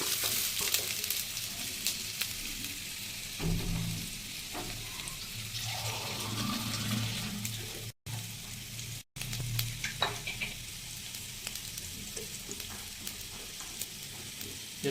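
Chopped onion fries in hot oil in a kadai, a loud continuous sizzle with scraping and stirring noises, a couple of brief dropouts midway, no talking.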